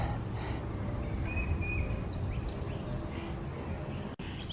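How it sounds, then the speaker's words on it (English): Birds sing in a park along a hiking trail on a cloudy morning, with several thin whistled calls rising and falling over a low rumble of wind and outdoor background, fairly distant and soft. "Listen to all the birds."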